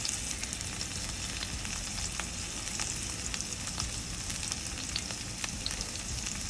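Onions and garlic sizzle steadily in a hot pan, a dense crackling fry with scattered pops and no voices.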